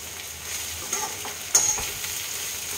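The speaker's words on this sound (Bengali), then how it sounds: "আলু, উচ্ছে, পোস্ত সমস্ত কিছুই আমার লালচে লালচে করে ভাজা হয়ে গেছে" Bitter gourd slices, potato and poppy seeds crackle and sizzle in hot oil, a steady close frying hiss with a couple of sharper pops and scrapes along the way.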